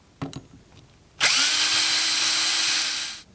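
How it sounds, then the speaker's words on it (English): Cordless screw gun backing screws out of an old RV skylight, a short whir followed by a loud, steady motor whine lasting about two seconds before spinning down. "remove them with your screw gun"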